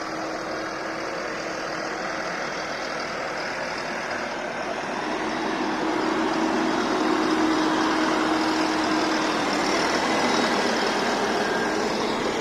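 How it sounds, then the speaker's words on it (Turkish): Erkunt 110 tractor engine running close by, a steady droning hum that grows slightly louder and rougher partway through, continuous with no talk over it. "Traktörümüz Erkunt 110."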